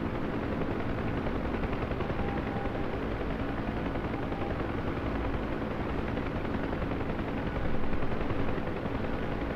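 A heavily loaded UH-1 Huey helicopter in the DCS flight simulator climbs at the red line, giving a dense, steady roar of rotor and turbine that stays loud throughout and swells slightly near the end.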